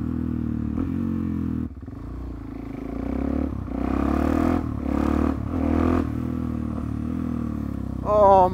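A Suzuki DR-Z motorcycle rumbles steadily while being ridden near the coast, the engine note rising and falling through the ride with a brief dip in level, close to the rider, with some wind and clatter mixed in and no clear talk.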